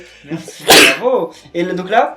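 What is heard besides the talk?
sneeze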